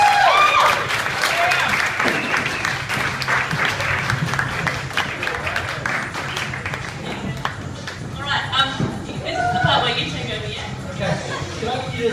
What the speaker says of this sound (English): please give these guys a round of applause as they take their seats